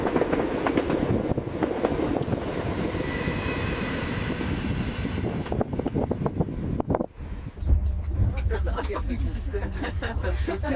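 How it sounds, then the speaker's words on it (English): Steady rumble and rattling clatter fill a busy dining car on a moving high-altitude train near the Kunlun Tunnel and Tuotu River, with wind-like roar and a murmur of background activity. "Sounds of a busy dining car on a moving train"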